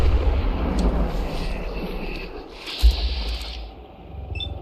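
Revolver gunshots in Fallout 4 ring out amid a dense, rumbling game soundscape, with one sharp crack standing out midway and broad explosive low-end noise throughout.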